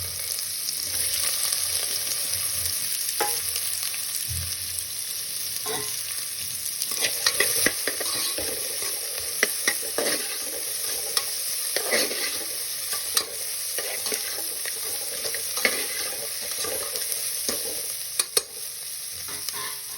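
Onions, potatoes and carrots sautéing in a pan, a continuous sizzle with frequent clicks and scrapes of stirring, close-up and fairly loud, no speech.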